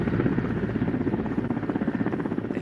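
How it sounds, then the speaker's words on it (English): A military helicopter hovers over a building rooftop during a commando exercise, its rotor giving a continuous rapid thudding chop at moderate distance, with no voices. "The helicopter comes to hover over the roof"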